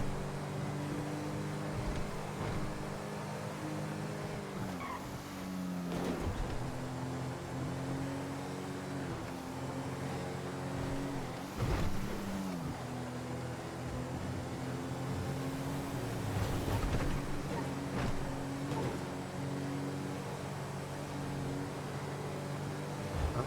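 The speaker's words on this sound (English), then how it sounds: "This car sounds so nice and drives so nice." Front-wheel drive car engine driving in a video game, a steady droning hum that rises and dips in pitch a few times during gear or speed changes, continuous and fairly loud with no talk.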